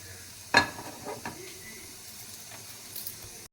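Butter melting in a hot pan while cooking pav bhaji, giving a quiet, steady sizzle with a sharp clatter near the start and a few soft scraping stirs afterward.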